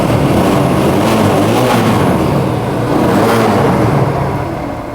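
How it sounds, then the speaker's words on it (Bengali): A TVS Apache RTR 160 2V motorcycle engine idling nearby, a steady loud low rumble with a smooth, even throb and no revving, running alone throughout. "বাইকটা কিন্তু স্টার্ট করা হয়েছে বন্ধুরা"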